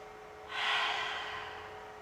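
One long, deep breath rises and slowly eases out during a stress-relief breathing exercise, sounding close and steady before it fades gently.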